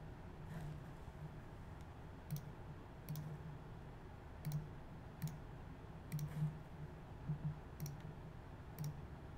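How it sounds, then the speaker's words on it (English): Computer mouse clicking, faint sharp single clicks spaced irregularly over a low steady background hum, with no talk. "Just clicking once."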